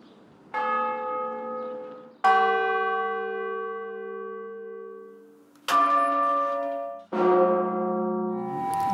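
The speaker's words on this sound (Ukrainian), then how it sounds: "І о півдні на дзвіницях усіх соборів Української православної церкви Київського патріархату закалатали поминальні дзвони" Memorial church bells ring from cathedral bell towers of the Ukrainian Orthodox Church of the Kyiv Patriarchate, loud and close, with four distinct struck tolls each decaying into long, rich humming overtones.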